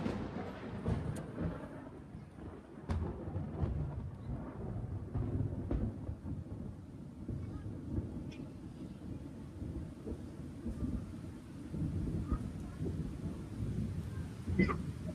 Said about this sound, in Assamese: বৰষুণ দিছে হ'লেও কিন্তু ৰেইনকোট পিন্ধি পেলাই